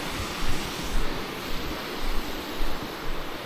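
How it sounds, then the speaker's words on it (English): A small waterfall in Nishizawa Ravine pours in a steady broadband rush, close and fairly loud, with gentle surges and no voices. "One of the waterfalls."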